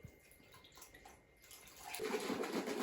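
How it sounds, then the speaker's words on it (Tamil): Water poured from a vessel into sugar to dissolve it, starting as a faint trickle and swelling into a steady, louder splashing pour over the last second. "இதில் இந்த சர்க்கரை கரைக்கிறதுலையே கொஞ்சம் தண்ணி நாங்கள் விடுறோம்."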